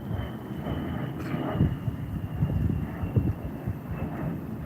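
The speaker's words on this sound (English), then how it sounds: "There goes that jet again." A jet aircraft rumbles overhead above a Hawaii hiking trail, a steady low roar that swells and fades gently with the wind, with no one speaking.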